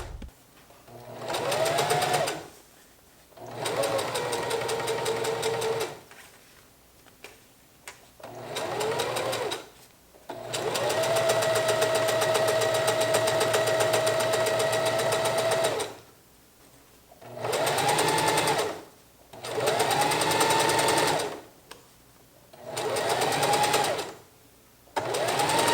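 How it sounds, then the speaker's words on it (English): A Singer heavy-duty sewing machine with a size 100 needle sews cork fabric to a zipper in repeated runs of several seconds each, whirring loud and close, with short silent pauses between runs. "here I'm sewing the cork fabric to the zipper"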